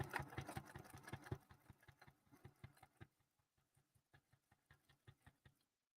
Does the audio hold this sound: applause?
no